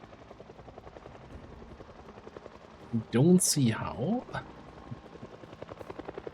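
A helicopter circles in the Project Zomboid video game, a low rhythmic rotor chop that swells loud for about a second mid-clip, with a brief short speech before it and steady background throughout.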